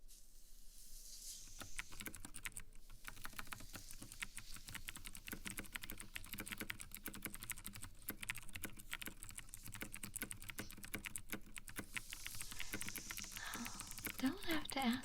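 Close, quiet typing on a computer keyboard, a dense stream of soft key taps carrying on without pause under a whispering voice.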